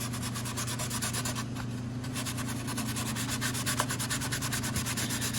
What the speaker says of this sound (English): trying to keep how much I hand sand here to a minimum